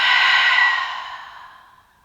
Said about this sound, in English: Open up your mouth,